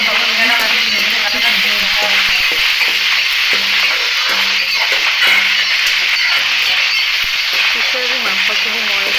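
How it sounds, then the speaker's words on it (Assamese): Food fries in hot raw mustard oil in a wok, a loud, steady sizzle and hiss that lasts the whole time, close up, with occasional stirring clinks underneath. "ধুনীয়াকৈ ভাজি"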